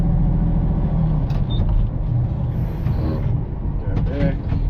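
A loader screening topsoil, climbing a hill in first gear, gives a heavy low engine drone with mechanical creaks and clunks, steady and close throughout.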